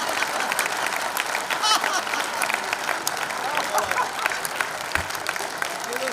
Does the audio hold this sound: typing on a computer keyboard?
no